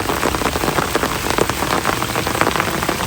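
Heavy rain pours down in a steady, dense patter on surfaces outdoors, a continuous hiss of drops with no voices.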